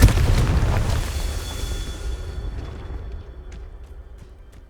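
A deep Confringo fire-blast spell explosion booms in the Hogwarts Legacy video game, loud at first and then rumbling and fading out over several seconds, with faint ringing tones trailing behind.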